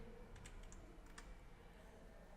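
Data is typed on a computer keyboard into an Excel spreadsheet, a short burst of faint, quick keystrokes over steady background hiss.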